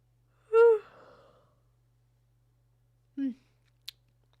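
A single drawn-out human yawn from a streamer, close and fairly loud, starting with a voiced rise that trails into a breathy exhale, then a short low vocal sound and a faint click after a pause.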